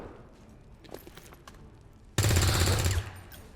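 A burst of automatic rifle fire from a flanking shot in XCOM 2, loud and close, a dense rattling volley lasting under a second after a quiet stretch of faint game ambience.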